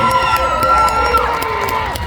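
Crowd at a tattoo expo pinup pageant cheering and whooping loudly throughout, with scattered shouts over a dense, continuous roar.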